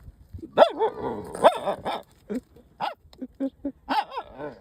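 Dogs barking and yelping near a lake, a run of sharp close barks with whimpery yips in between, repeating in quick bursts.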